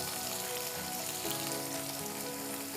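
Tomatoes with salt, red pepper flakes and thyme sizzle and sauté in a pan for menemen, a soft, steady frying hiss with faint stirring, no talking.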